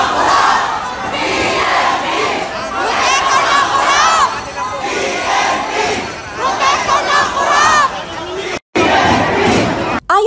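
A large protest rally crowd on CM Recto Avenue in Manila chants and shouts in loud rhythmic unison, with voices rising and falling in waves and a brief dropout near the end.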